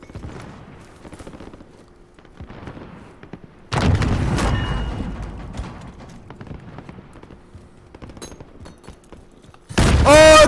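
Gunfire in the battle royale game Call of Duty Warzone: sparse distant shots and rattles, then a loud burst of sustained fire around the middle and another sharp loud burst at the end.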